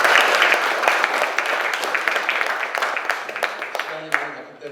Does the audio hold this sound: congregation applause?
yes